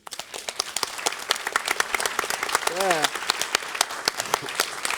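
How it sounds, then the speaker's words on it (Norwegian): Audience applause at an education technology event: a brisk, steady patter of many hands clapping close by, with a brief voice cutting through the middle. "Applaus."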